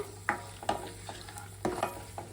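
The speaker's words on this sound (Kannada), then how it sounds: "ತುಪ್ಪದಲ್ಲಿ ಚೆನ್ನಾಗಿ ಫ್ರೈ ಆಗಬೇಕು ಡ್ರೈ ಫ್ರೂಟ್ಸು" Raisins and other dry fruits fry in ghee for vermicelli payasa, a soft background sizzle punctuated by several distinct spoon scrapes and stirs, close and fairly quiet with no speech.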